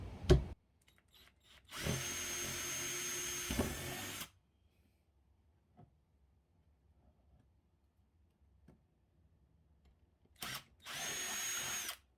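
A power screwdriver drives the final screw into a PS3 console during a teardown, with two loud buzzing bursts of a couple of seconds each separated by quiet, faint clicks in between.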